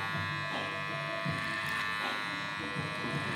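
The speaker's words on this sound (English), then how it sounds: "Now I get my clipper comb, going underneath." Electric hair clippers fitted with a clipper comb cut hair during a skin fade, giving a steady close buzz that rises slightly as the blades pass through hair, with faint talk in the background.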